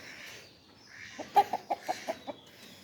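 A run of six short, evenly spaced clucks from a nearby hen, rising out of quiet background hiss.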